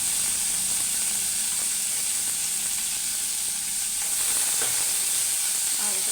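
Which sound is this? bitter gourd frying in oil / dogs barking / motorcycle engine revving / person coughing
bitter gourd frying in oil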